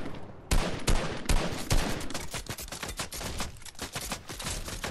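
Rapid gunfire in the video game Fortnite: loud, sharp shots in quick bursts and near-continuous volleys across the whole stretch, with barely any pause.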